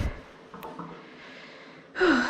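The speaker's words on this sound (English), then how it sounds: "sorry if you can hear me breathing" A person in pain breathes heavily and laboriously close by, just after bathing and trimming the nails of a piebald Siberian Husky. The breathing is soft and steady, and a brief louder, higher-pitched burst comes at the end.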